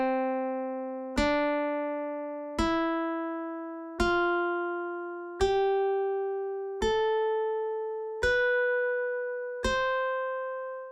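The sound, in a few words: major scale played on an instrument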